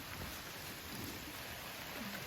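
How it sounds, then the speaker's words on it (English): Steady rain falls continuously with a soft, even hiss, fairly faint and unbroken, with no voices present. "It's raining all night."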